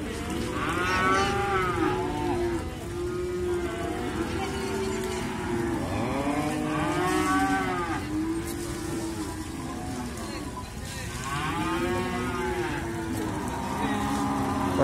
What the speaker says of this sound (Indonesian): Postur dari sapi limosin cross milik Mas Priyo yang ada di depan saya.